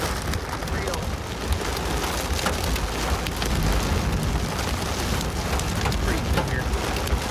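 Heavy rain and hail pounding during a storm near Dallas-Fort Worth, a dense continuous roar with scattered sharp impacts, loud and close, while a person briefly speaks.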